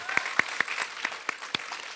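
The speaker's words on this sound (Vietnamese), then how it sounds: "Chúng ta vỗ tay để cảm ơn Lương Mạnh Hải ạ." A studio audience at a Vietnamese talk show gives a short burst of sparse, distinct hand claps for actor Lương Mạnh Hải, about eight sharp claps in quick succession, fairly quiet and thin.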